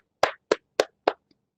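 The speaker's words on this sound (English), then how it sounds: "give a huge round of thunderous applause for our distinguished panelists" Four sharp, evenly spaced hand claps sound close and clear in an online webinar, a small sparse burst of applause for panelists with nothing else behind it.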